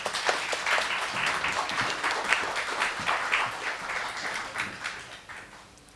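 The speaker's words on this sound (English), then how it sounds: "A round of applause for the algorithm." A crowd applauds steadily, dense clapping that holds for several seconds before tapering slightly at the end.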